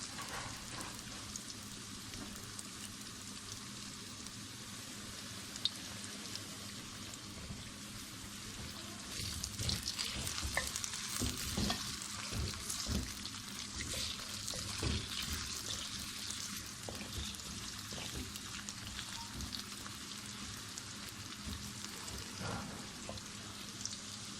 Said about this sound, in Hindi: आलू हमारे हल्के फ्राई हो चुके हैं।